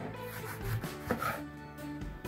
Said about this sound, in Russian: Нарезаем апельсин.